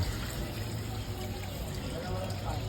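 Water pours steadily into a cooking pot of goat offal stew, a continuous rushing splash close by with a faint voice in the background.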